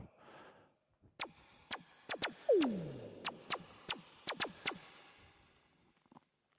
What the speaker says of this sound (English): here is the sound of the actual percussion itself